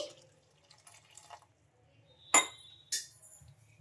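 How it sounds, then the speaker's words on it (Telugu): A spoon clinks against a bowl while stirring jowar flour with hot water, a few sharp metallic taps spaced over a few seconds, close and alone in near silence. "ఒకసారి బాగా ఇలా స్పూన్తో కలిపేసుకుందాం"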